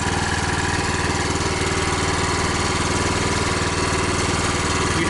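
A 2017 Honda HSS1332ATD track-drive snowblower engine idles close by, a constant, buzzy mid-pitched drone that stays even and unbroken throughout, with no voices.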